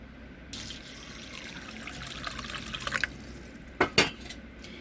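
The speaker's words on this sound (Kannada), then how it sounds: "ಇದನ್ನೆಲ್ಲ ತೆಗೆದು ಒಳ್ಳೆ ನೀರು ಹಾಕಿ ಇಡಬೇಕು" Water runs into a vessel of washed basmati rice being soaked for kushka, a close splashing stream from a tap or jug that builds for a few seconds, then stops, followed by a couple of sharp drips or splashes.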